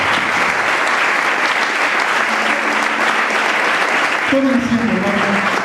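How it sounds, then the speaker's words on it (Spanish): A church congregation applauds the Lord with loud, sustained clapping that fills the room throughout, while a voice speaks over it toward the end. "¿Por qué no le damos un fuerte aplauso al Señor?"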